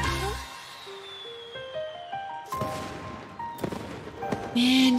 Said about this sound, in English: And you turn into a firework.